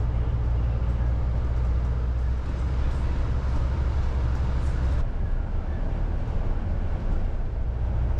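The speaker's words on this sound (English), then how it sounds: "nothing says Docklands more than a DLR train going overhead" A DLR train passes overhead in London's Docklands, a continuous low rumble and steady roar heard from below, loud and unbroken with a brief shift midway and no talk.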